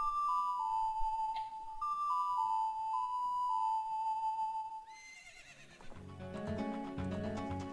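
Epona the horse whinnies in Zelda: Ocarina of Time, a video game. Several high, tonal neighs sound over soft game music, followed by a louder musical flourish.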